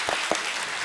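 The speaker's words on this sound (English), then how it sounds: "Let's give him a warm round of applause." A brief burst of audience applause greets a speaker at a character-education talk, with a steady wash of clapping from a crowd.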